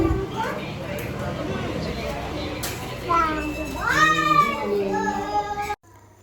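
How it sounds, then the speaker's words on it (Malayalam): A native domestic cat gives a few drawn-out, rising meows close by, mixed in with ongoing chatter and children's voices in a lively family gathering. "ഇത് ഇവിടെ ഉണ്ടായിരുന്ന പൂച്ചയാണ്, നാടൻ പൂച്ചയാണ്."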